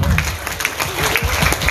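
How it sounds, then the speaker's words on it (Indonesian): A crowd claps briskly at a Bhayangkara 76th anniversary celebration held by the Samosir police, steady applause lasting under two seconds. "Aplaus dulu."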